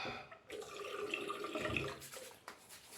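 Tap water runs into a sink to wet the face before shaving, a steady splashing flow with a few drips that starts abruptly, holds for about a second and a half, then fades to a trickle.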